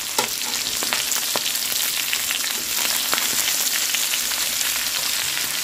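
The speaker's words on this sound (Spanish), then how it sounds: "Aquí ya le voy a agregar la cebolla para que se acitrone" Onion frying in a hot pan for nopales con carne with red tomatillo salsa, a loud, steady crackling sizzle with scattered pops and occasional stirring scrapes, no voices.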